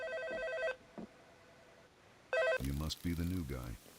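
A video game telephone rings in two bursts of electronic trilling, loud and near, with a voice speaking right after the second ring.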